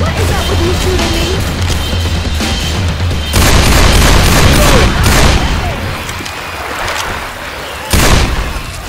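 Gunfire rattles through Left 4 Dead 2 in a swamp setting, with bursts of shots, booming impacts and sharp loud blasts rising over a noisy game background while a player talks.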